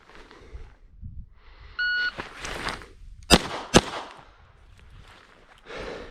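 A short electronic beep sounds, followed by two sharp, loud gunshots in quick succession against faint outdoor background noise.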